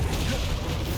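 An Expulso spell detonates in Hogwarts Legacy with a short, heavy, rumbling blast. The dense low boom fills the whole moment without a clear decay.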